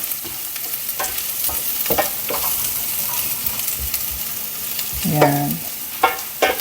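Finely chopped ginger sizzles loudly in a pan while being stirred, giving a steady frying hiss punctuated by spatula scrapes and taps. A brief spoken word comes near the end.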